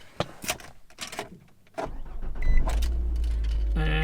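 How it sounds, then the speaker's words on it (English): A Nissan Armada SUV engine cranks and starts after a few clicks and rustles, settling into a steady low idle hum close by. "And the car starts."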